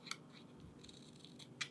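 Scissors snip through a ripped card petal on a craft sign project, giving two short, sharp cuts near the start and end with quiet rustling between them.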